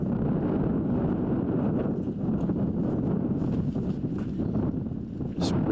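Strong wind roars steadily across an open disc golf course during a pro tournament round, a dense unbroken rush close on the microphone with faint speech in the background.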